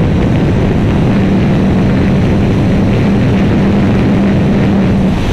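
A Honda CBR 650 R E-Clutch 2024 motorcycle accelerates under riding, its engine a loud, steady roar blended with heavy wind rush throughout, close and unbroken.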